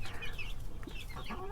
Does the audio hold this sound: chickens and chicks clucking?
yes